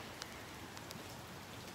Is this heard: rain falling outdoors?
yes